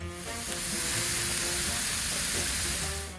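Meat frying in a pan, a steady dense sizzle that swells and holds loud close by, with faint stirring clatter underneath and no talk.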